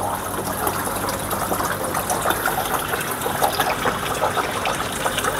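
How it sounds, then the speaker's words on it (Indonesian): Water poured steadily into an aquarium with an undergravel filter and a bed of Malang sand, a continuous close gushing and splashing that holds an even level throughout, with no voices. "sekarang kita mau masukin langsung aja airnya ya."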